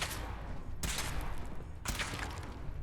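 Sustained automatic gunfire from a weapon test in Fallout 4, a dense, loud continuous burst with two sharper volleys starting partway through, no voices.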